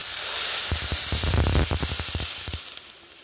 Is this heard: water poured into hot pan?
yes